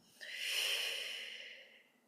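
A single long, soft exhale after a held breath, breathy and airy, swelling quickly then tapering slowly, heard close and alone in a quiet room.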